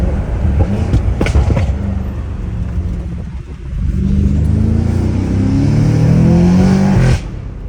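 A downpiped BMW M5 Competition accelerates hard, its engine rising loudly through the revs, with a brief drop at a gear shift before pulling strongly again and easing off at the end.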